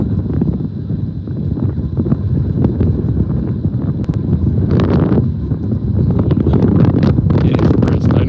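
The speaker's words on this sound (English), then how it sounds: "It's definitely quite windy and cold out here." Strong wind buffets the microphone in a steady, loud roar for the whole stretch on a cold night street, with gusts swelling near the end.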